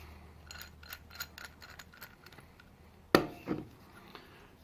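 A nut is tightened down on a metal pipe-clamping arm, giving a run of soft ratcheting clicks followed by one sharp metallic clack and a short scraping knock, close and quiet.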